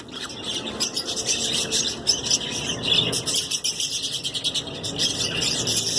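A pair of pet cockatiels chirps and squawks in a rapid, continuous stream of bright calls, close and fairly loud, with no voices present.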